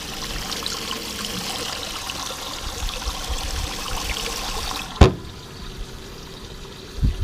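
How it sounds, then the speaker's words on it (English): Water pours and trickles steadily through a homemade jonboat livewell pump setup, a continuous close splashing stream that cuts off abruptly, followed by a quieter low hum and a brief knock. "the water is just going to circulate and keep the fish alive."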